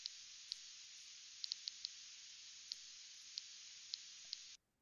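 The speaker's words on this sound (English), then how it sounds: "brief clicks, and you can see them here, they're very short in time with a center frequency of around 60 kilohertz" Ultrasonic clicks from a stressed geranium plant, slowed to be audible, sound as about a dozen very short, faint ticks. They are scattered irregularly over a steady hiss of background static, and the hiss cuts out at the end.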